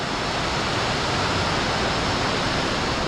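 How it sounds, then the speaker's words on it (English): Waterfall in the Grand Canyon of the Tuolumne in Yosemite, a steady, dense roar of falling water that stays loud and unbroken throughout, with no voices. "There's another waterfall over there."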